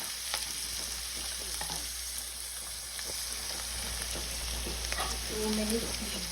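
Onions with a little salt frying lightly in a pan, a steady soft sizzle running throughout with occasional stirring clicks and a faint hum underneath.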